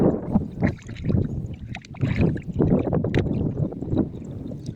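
Gusty wind buffets the microphone in uneven rumbling bursts, rising and falling with occasional splashy water sounds close by.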